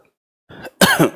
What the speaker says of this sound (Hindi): जब तक खांसी वासी तेज नहीं हो रही है तब तक मैं पढ़ा दे रहा हूँ